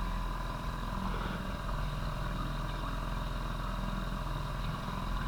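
A small two-stroke outboard motor on an inflatable Jeanneau Newmatic Rigiflex boat drones steadily while being run in on a canal, a constant buzzing engine tone heard close and unchanging.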